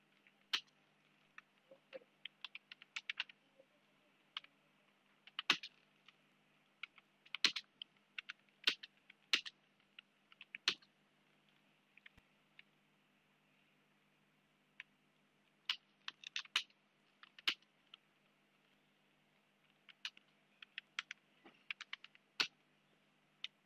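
Someone types on a computer keyboard in scattered bursts of quick, crisp key clicks separated by pauses, soft and close against a faint steady hum.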